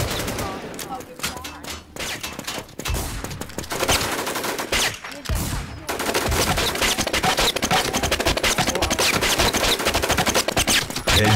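Rapid automatic gunfire in the PvP video game Warz, loud bursts and sustained volleys close up, with brief pauses between strings of shots and a voice briefly heard.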